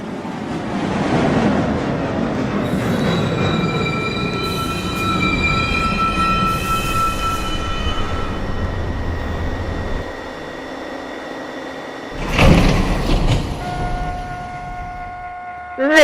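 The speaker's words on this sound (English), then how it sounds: "Downtown Local 1 train. Approaching the station, please stand away from the platform edge." An NYC subway Downtown Local 1 train pulls into Lincoln Center station, a loud rumbling approach with a recorded platform announcement over it, then a sharp burst of brake noise and a high squeal as it stops.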